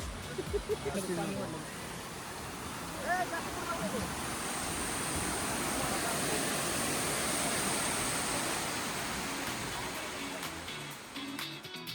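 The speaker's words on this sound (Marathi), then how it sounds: "चला फायनली राऊतवाडी धबधबा एकदम निसर्गरम्य वातावरणात." Rautwadi waterfall in a scenic rainy setting roars as a steady broad rush of falling water, with a person talking over it near the start.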